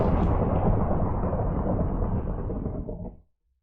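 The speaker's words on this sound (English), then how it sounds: "Lightning bending is so OP, dude." A thunder rumble from lightning bending in a Minecraft Avatar mod rolls out as one loud, sustained crash and cuts off abruptly after about three seconds.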